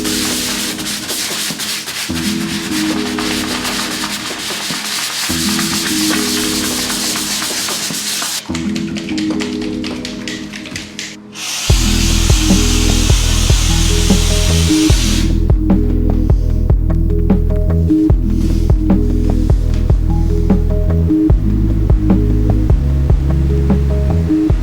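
A texture sprayer puts an orange peel finish on the walls of a family cabin under construction. It gives off a steady loud hiss alongside a pulsing compressor hum that runs the whole time and grows heavier partway through.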